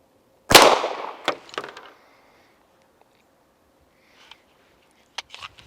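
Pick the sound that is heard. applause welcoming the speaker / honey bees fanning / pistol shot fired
pistol shot fired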